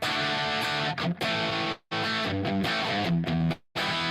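Electric guitar run through compressor, echo and booster effects, playing loud, dense distorted chords and riffs with short breaks between phrases, no voices.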